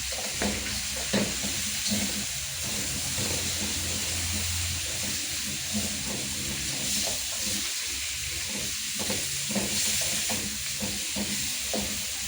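Onions sauté in a pan over lowered heat, giving a faint, steady hiss and sizzle with occasional soft stirring sounds and no talking.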